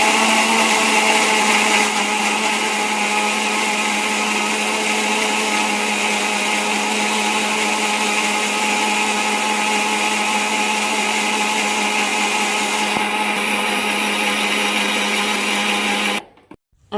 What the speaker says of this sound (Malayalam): മിക്സി ഓൺ ചെയ്യാൻ പോകട്ടോ